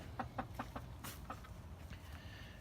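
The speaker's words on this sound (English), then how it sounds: "Man, these some pretty chickens here." Young dark-colored hens, pullets, cluck faintly in a short burst of four quick soft clucks, followed by quieter scattered bird sounds in a calm background.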